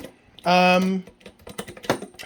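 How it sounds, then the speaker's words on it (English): A fluorescent tube starting in its fixture gives a buzzing tone, then a run of small, sharp, irregular clicks from the starter, close and fairly loud with nobody talking. "Sometimes there will be a little clicking sound inside whenever it starts."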